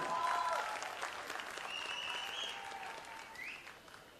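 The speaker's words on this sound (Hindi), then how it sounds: "अगर आप लोग अपने कलम नीचे रख के ताली बजाएंगे तो ज्यादा जोर से ताली बजेगी।" Press conference audience applauding steadily at the launch of a reality TV season, a dense wash of clapping heard from a distance and at low level, slowly fading, with faint tonal sounds in the background.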